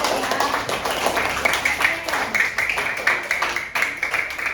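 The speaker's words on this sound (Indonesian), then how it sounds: "Tepuk tangan Syamil ya" A classroom of pupils clapping for a student who scored 2000 in a quiz, a moderate, uneven patter of hands that carries on steadily with voices talking over it.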